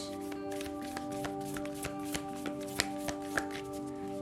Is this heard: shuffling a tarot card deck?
yes